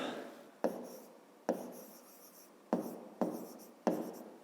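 Pen or chalk writing by hand during a fifth-grade maths lesson: a series of six distinct scratchy strokes, each starting sharply and trailing off, close and fairly quiet with no talk.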